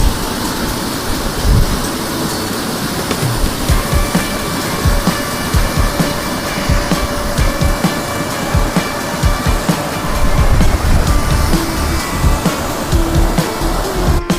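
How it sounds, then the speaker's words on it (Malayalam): Kanyarkayam waterfall in a forest area, a constant broadband roar of rushing, splashing water, loud and close, steady for the whole stretch with no voices. "കന്യാർകയം വാട്ടർഫാൾസിലാണ് ഞാൻ നിൽക്കുന്നത്"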